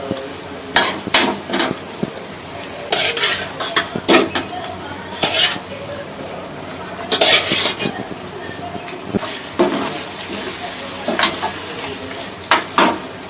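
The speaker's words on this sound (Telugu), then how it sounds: "మగ్గించిన చికెన్ వేస్తాం." Cooked chicken tipped into a frying pan for a Telugu-style chicken fry and stirred, with sharp clanks of a metal spoon against the pan recurring in irregular bursts over a low background sizzle.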